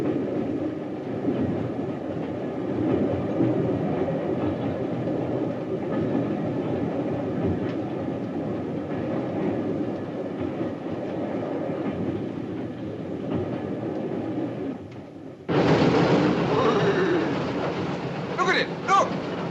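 A steam locomotive running on rails on a frontier railway line makes a steady, rumbling roll with clatter for about fifteen seconds before the sound shifts to a brighter, closer, noisier passage, with voices faintly present.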